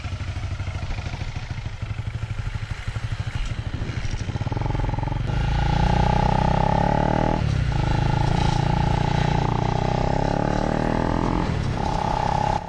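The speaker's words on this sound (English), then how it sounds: "You'll notice a whining noise when I let off the throttle. That's normal. That's those roller bearings that came with the kit." A Honda Grom fitted with a swapped CBR 250cc engine revs and idles up close, its motorcycle engine note climbing and holding, with a steady high whine from the kit's roller bearings riding over the exhaust.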